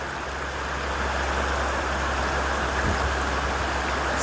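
Farmington River water rushing steadily between Unionville and Farmington while tubing through a rough section, a continuous broadband wash close by with a low rumble underneath and no talk.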